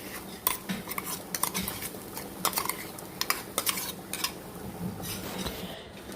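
A spoon clinks and scrapes against a pan while bitter gourd thoran is stirred together with a ground paste of coconut, green chili and cumin, giving irregular close metallic taps over a low background hiss.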